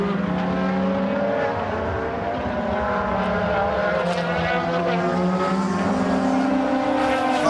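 Several DTM Audi touring race cars lapping the Valencia circuit in a close battle, engines roaring loudly and continuously with overlapping passes and rising and falling revs throughout.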